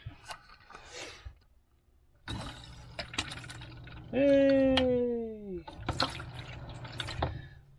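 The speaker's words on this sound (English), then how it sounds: "I shall now turn the pump back on." A van's onboard water pump switches on and water flows from the tap, with hissing flow, drips and a rising-then-falling whine from the pump in the middle, heard close alongside a person talking.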